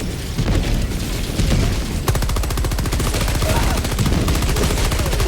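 Enemy gunfire in the Helldivers video game comes as a dense, loud barrage of rapid automatic bursts mixed with booms, rattling in a fast steady stream.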